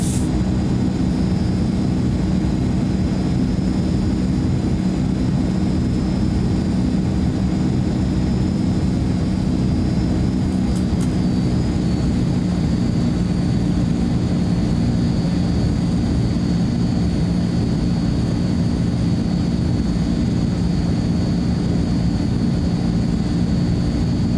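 Azurpoly C-160 transport plane taxiing in Microsoft Flight Simulator 2024, a steady low propeller-engine drone that holds level throughout with a thin high whine above it and no voices.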